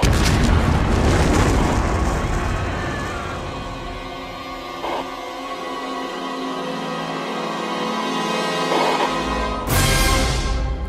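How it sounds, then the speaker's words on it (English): A volcanic explosion sounds as a loud, sustained deep boom and rumble that fills the whole stretch, swelling and easing, with a sharp fresh burst near the end; no voices. "We're just getting reports of a volcanic explosion."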